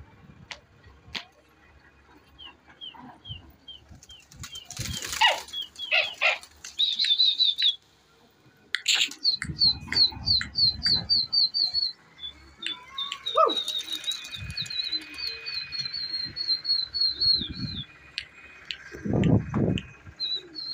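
Pigeons in a loft give repeated short calls and chirps, broken by several bursts of wing flapping and rustling, with faint background noise.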